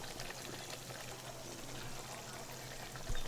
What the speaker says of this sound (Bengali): চিকেন চাপটা তৈরি হয়ে গেছে, এবার ঢেলে নেব।